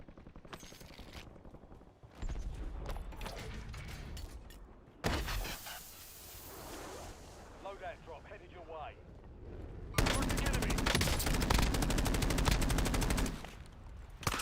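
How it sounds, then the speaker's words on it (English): Rapid gunfire from a quads battle-royale-style video game shooter, with bursts of automatic shots, a long dense volley near the end and someone talking over parts of it. "Shots were terrible right there."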